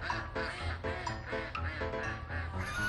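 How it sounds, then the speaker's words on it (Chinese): Sheldrake ducks on a duck farm quack repeatedly in a loud, overlapping chorus as they are herded into a shed. The calls come in quick, uneven bursts and stay close. "为了安全起见，赵湘云大哥决定将鸭子赶进鸭棚。"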